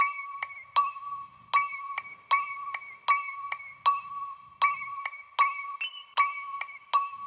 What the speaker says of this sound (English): I took a different sample of me hitting a glass, wine glass, and I made this